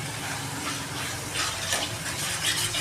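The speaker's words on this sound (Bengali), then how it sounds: "এটা জাস্ট ভালো করে কষিয়ে নেবো তেলের সাথে" Cumin and coriander powder frying in oil with a little spice paste, a steady close sizzle and crackle with soft stirring scrapes and small wet bubbling throughout.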